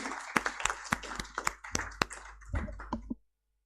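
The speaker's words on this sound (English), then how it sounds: "a big round of applause for the panelists here" Sparse, uneven hand claps from a small lecture audience honoring panelists, a few distinct near claps spread over about three seconds before stopping abruptly into silence.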